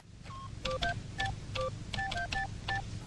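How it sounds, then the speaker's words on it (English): A computer at a reception desk gives short beeping tones of different pitches, about a dozen quick beeps in an uneven pattern, moderately close over a low background rumble. "there's a receptionist there who has a computer that makes a cool sound"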